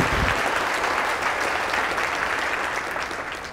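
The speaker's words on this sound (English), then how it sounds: "let's give another round of applause to all the award recipients" A large audience at an ethics awards ceremony applauds the award recipients with dense, sustained clapping that fades slightly toward the end.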